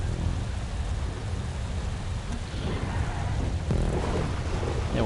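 Rain falls in a night-time stage of a PS5 racing game, a continuous hiss of rain over a low rumble, steady and loud throughout with no speech.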